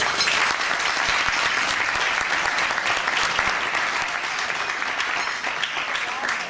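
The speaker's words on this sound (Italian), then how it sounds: "e per questo l'applauso è d'obbligo" Steady, dense applause from an audience at a festive evening gathering for a winning women's football club, filling the room loudly and evenly throughout without letting up.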